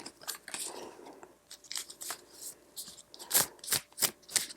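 A deck of cards being shuffled by hand, a run of sharp crisp riffles and flicks, several in quick bursts and a louder cluster near the end, close and alone without speech.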